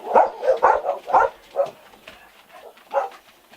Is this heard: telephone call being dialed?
no